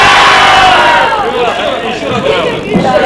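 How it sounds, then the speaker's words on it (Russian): A group of children at an orphanage shout "hooray" together on a count, a loud, dense burst of massed young voices that fills the short moment close by. "При счете 3-4 мы все крикнем «Ура!»"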